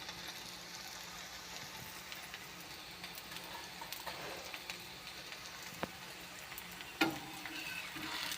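Ragi flour adai frying in oil on a pan, a steady soft sizzle and crackle running throughout with one sharper pop near the end, no voices.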